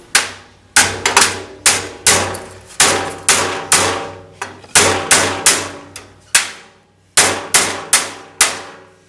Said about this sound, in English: Wouldn't strongly advise using taking a hammer to your PC.